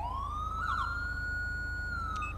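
Police car siren from the LSPDFR video game, a steady rising-then-level electronic wail held for a couple of seconds, loud and alone without talk.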